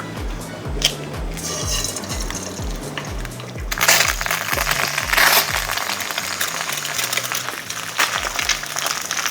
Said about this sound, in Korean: 일단 계란 후라이를 2개를 하죠.